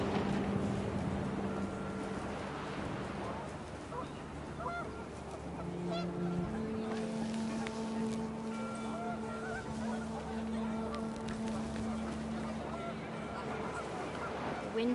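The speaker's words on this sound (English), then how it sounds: "The wind picked up, and panicked geese appeared and quickly went." Panicked geese honk in the video game What Remains of Edith Finch, a dense overlapping flock of calls over windy outdoor ambience, with a voice speaking at points.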